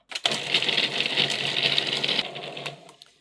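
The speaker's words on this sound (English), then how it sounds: "I've got the food processor out and we're going to make the filling in the food processor" A food processor whizzes homemade prosciutto into a near paste, a close, steady motor whir with a buzzing edge that runs for about two seconds before cutting off, followed by a few faint clatters.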